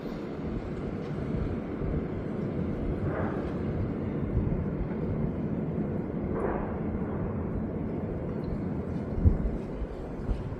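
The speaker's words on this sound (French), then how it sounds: "Ça, c'était le bruit des arbres qui cassent en fond." Trees cracking and snapping somewhere in the background of a violent sandstorm, heard as two dull muffled bursts around the three- and six-second marks, buried in a constant heavy roar of gusting wind.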